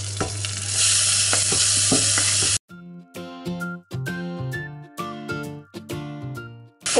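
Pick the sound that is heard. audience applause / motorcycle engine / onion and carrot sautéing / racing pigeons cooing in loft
onion and carrot sautéing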